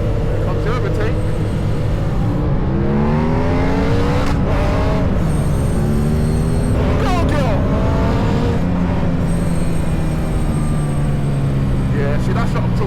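An Aprilia RS660 Extrema 2024 motorcycle accelerates hard during an overtake, loud engine howl rising through repeated gear changes over steady wind roar.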